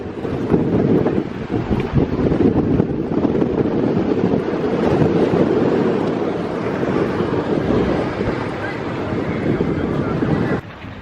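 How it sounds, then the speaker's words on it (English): Strong wind buffets the microphone in a steady, loud low rumble, with gusts rising and falling throughout. "It's definitely windy up here."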